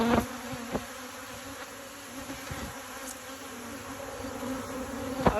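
Honey bees buzz in a continuous, close drone at an open hive during a fall inspection, with a few soft knocks and handling noises scattered through.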